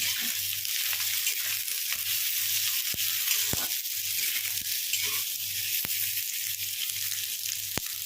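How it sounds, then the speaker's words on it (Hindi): Potato pieces for jeera aloo fry in hot oil, giving a continuous close sizzle and hiss with scattered sharp pops and crackles over a faint low hum. No one speaks. "जब तक हमारे आलू फ्राई हो रहे हैं"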